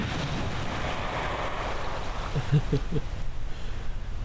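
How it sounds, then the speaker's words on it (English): Ocean waves and surf wash steadily around a spacecraft splashing down in Kerbal Space Program, a continuous wind-swept rush with a few soft low thumps midway. "We're officially splashed down."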